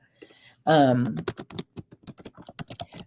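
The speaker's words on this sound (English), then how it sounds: "I'll type it here too." Rapid run of close computer keyboard keystrokes, irregular clicks tapping along for a couple of seconds, preceded by a brief burst of speech.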